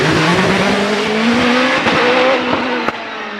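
Race car on a hillclimb run at Prescott, loud and close, its engine climbing steadily in pitch through the gears, then easing off under braking, with a sharp mechanical crack near the end.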